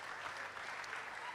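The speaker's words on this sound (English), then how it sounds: "Please, let's give a round of applause for him" Conference audience applauding a speaker, a brief, distant-sounding burst of clapping from a crowd, fairly faint and over almost as soon as it starts.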